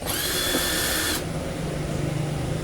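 A Keelat impact wrench with a built-in light spins freely in a high, steady whine for about a second, then cuts off, leaving a low background hum.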